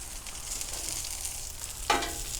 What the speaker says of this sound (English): these are crisp up or fried in this oil really well